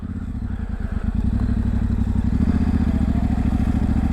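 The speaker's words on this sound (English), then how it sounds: "It's very muddy. My wheels are slipping." Yamaha Tenere 700 motorcycle slogging along a muddy forest trail, engine thrumming steadily up close as the wheels slip and spin, with scattered clattering and thuds from the rough ground.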